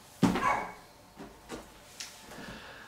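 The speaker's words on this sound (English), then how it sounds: "I'm sorry about the barking." A dog barks once sharply near the microphone, followed by a few fainter yips and whimpers spaced over the next two seconds in an otherwise quiet room.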